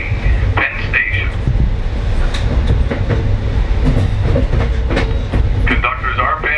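Passenger train rolling on rails, giving a continuous loud rumble with rhythmic clacks and occasional higher metallic squeals, heard from onboard.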